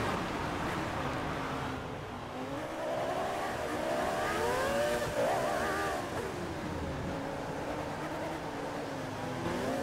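Formula 1 race cars in a video game at Silverstone, including a Benetton, overtaking at the start, with whining engines sweeping up and down in pitch as several cars pass close by, loud and continuous.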